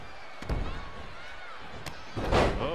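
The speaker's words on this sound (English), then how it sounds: "Scoop slam!" A body-slam thud lands in WWE 2K20, a short, muffled impact followed by a louder crashing thump with faint crowd noise underneath.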